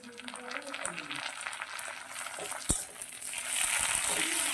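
Onions fry in a pan for a Bengali kakrol curry, a faint crackling sizzle with scraping stirs, then a sharp clatter as tomato goes in and the sizzle swells louder near the end.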